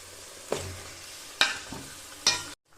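Diced potatoes and chicken going into a pan of onion paste, giving a steady low sizzle with three sharp clatters of a spatula against the pan, then a sudden cutoff to near silence at the end.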